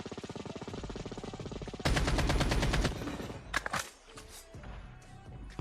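Rapid gunfire crackles through a video game firefight, a long burst of close, loud shots followed by sparser cracks and a few scattered single shots.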